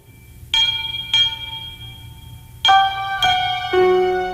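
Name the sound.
old clock bell struck by a hammer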